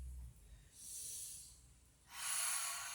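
Breathing exercise during a stretching session: two long, soft breaths, a smooth inhale and then a fuller, louder exhale, close and alone against quiet background noise.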